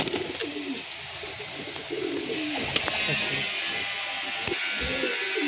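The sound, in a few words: pigeons cooing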